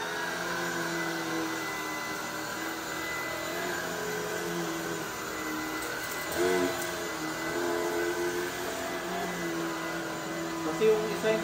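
A vacuum cleaner runs continuously with a loud, steady droning whine, its pitch shifting slightly now and then as it moves.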